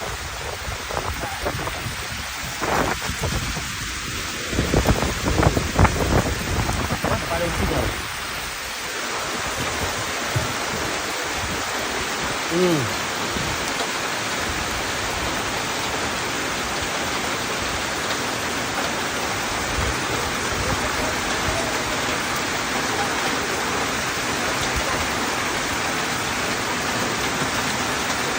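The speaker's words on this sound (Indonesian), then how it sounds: "Hujan nih." Steady, heavy rain hisses throughout, with a brief stretch of scattered knocks and movement early on; no clear thunder stands out.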